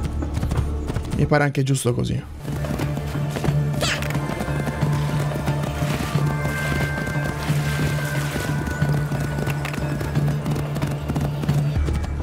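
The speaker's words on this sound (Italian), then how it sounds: "e prendo il cavallo, perché vai," A horse gallops in Assassin's Creed II on PS5, steady rapid clip-clop of hooves with a whinny near the start, a constant game hum and music beneath, while someone speaks Italian over it.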